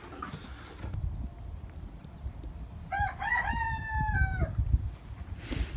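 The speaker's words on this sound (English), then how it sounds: "you may have just heard a rooster" A farm rooster crows once, clear and fairly close, a drawn-out cock-a-doodle-doo rising then falling, over quiet outdoor background noise and faint rustling.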